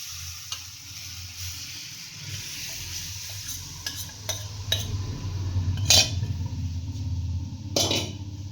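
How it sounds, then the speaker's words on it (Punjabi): Yogurt whisked with gram flour is poured into hot tempering for kadhi pakora and stirred, giving a soft steady sizzle with light spoon scrapes and a few clinks against the pot, fairly quiet and close, with no talking. "ਹੁਣ ਅਸੀਂ ਇਹਦੇ ਚ ਪਾਵਾਂਗੇ ਜੋ ਆ ਦਹੀਂ 'ਚ ਬੇਸਣ ਘੋਲਿਆ ਹੋਇਆ"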